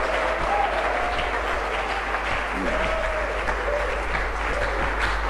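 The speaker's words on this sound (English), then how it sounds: "Let's give them a big round of applause." An audience at a Ghanaian government national update applauds regional ministers, sustained steady clapping from a large crowd with some faint voices underneath.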